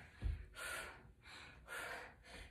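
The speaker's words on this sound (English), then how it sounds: "I'm sorry if you hear me breathing" Heavy breathing during a full body weighted workout: a few deep, close, rhythmic breaths, each one a loud airy rush in and out, with no talk.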